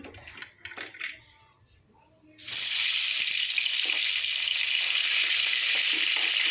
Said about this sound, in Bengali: কড়ার মধ্যে তেল দিয়ে দিচ্ছি এই ইলিশ মাছটাকে কড়া করে ভাজতে হবে একটু